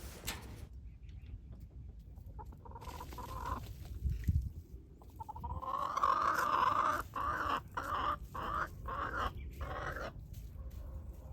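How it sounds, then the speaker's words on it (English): Four Easter Egger chickens cluck and murmur inside a backyard coop, with soft irregular calls that swell into louder, busier clucking midway, all at moderate distance with no human voices. "I got these 4 chickens in this coop for my birthday from my kids."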